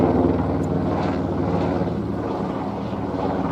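A helicopter drones steadily overhead, its rotor thrum loud and close, fading only slightly as it passes.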